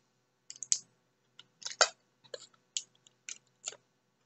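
Adhesive tape being handled and snipped for a simple nail art design, a series of short sharp clicks and crinkles in uneven bursts, close and quiet.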